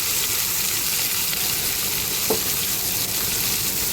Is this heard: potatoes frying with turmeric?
yes